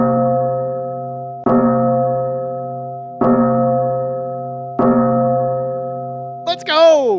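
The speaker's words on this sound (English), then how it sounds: "Ring that bell, Peter." Bell rung at a 76ers vs. Knicks basketball game: four loud, resonant strikes about every second and a half, each ringing on and decaying with clear overtones, followed by a brief rising whoop at the end.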